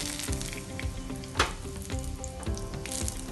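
Bay leaves sizzle steadily in about four spoonfuls of hot oil as a vegetable dish of cauliflower and radish is begun, a close, continuous frying crackle with a few sharper pops and no talk.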